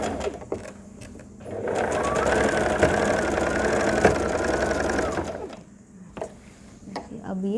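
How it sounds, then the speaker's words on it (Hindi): A sewing machine stitches a saree in one steady, loud mechanical run of a few seconds with a rapid rhythmic needle clatter, starting and stopping cleanly, with quieter handling clicks before and after. "उसी लाइन से मैं इधर के साइड से ही सिलाई लगाऊंगी"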